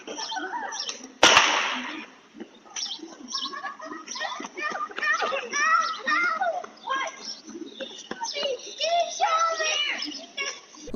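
One sharp, loud gunshot cracks early on a residential street, Candlewood Lane, fired through a house's front window, followed by children's voices and chatter as kids play outside.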